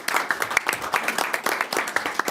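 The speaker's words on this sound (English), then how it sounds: "give them a round of applause for being a part of that." People at a public school board meeting give a short round of applause, a quick irregular patter of hand claps at moderate loudness, with some voices mixed in.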